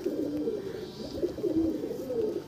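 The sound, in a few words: Andhra pigeons cooing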